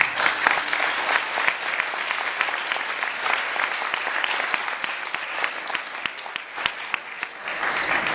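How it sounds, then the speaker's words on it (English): An audience at a farewell banquet claps steadily for about eight seconds, a dense wash of many hands at moderate distance with no voices standing out. "I think we should all thank and have a big hand of applause to our host family"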